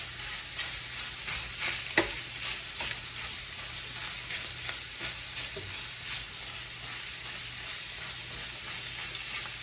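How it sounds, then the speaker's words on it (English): Pork Italian sausage sizzling and frying in a pan, a steady close hiss throughout with occasional stirring clicks and scrapes, one sharper knock early on; no talking. "So we're going to just cook off our sausage"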